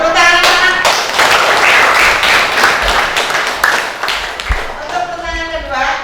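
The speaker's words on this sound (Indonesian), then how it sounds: "Terus tepuk tangan." Schoolchildren clap together in a junior high classroom lesson, a dense, steady burst of hand claps mixed with lively young voices that carries on for several seconds.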